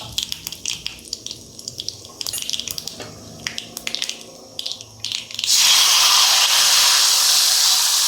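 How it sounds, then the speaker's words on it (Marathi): Hot oil crackles and sputters in short bursts in a kadhai, then swells into a loud, steady sizzle and hiss as mustard seeds, asafoetida and turmeric hit the pan. "कढईत तेल घेतलं आहे मी, तेल तापलं आहे, त्यात मोहरी, हिंग, हळद"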